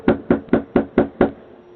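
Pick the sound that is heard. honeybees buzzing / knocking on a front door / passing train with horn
knocking on a front door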